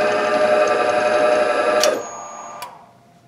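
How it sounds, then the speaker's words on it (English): A Cincinnati Royal drill press spindle runs under a VFD, a loud high whining hum that brakes quickly to a stop via DC braking, with a sharp click and a brief tick as it falls silent. "we got the e-stop set with, I believe it's some DC braking action to bring that spindle to a quick stop"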